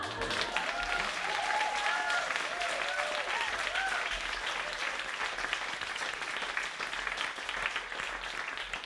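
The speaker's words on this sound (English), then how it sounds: "let's give another round of applause to these amazing writers" A seated audience applauds writers at an evening literary reading, sustained even clapping at a moderate distance with a faint murmur and a few voices blending in beneath it.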